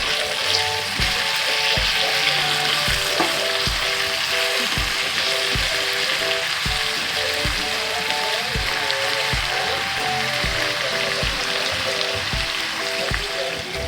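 Marinade sauce hits beef steak frying in a pan, giving a loud, steady sizzle with rapid crackling pops and a faint rhythmic tapping running throughout, no voices.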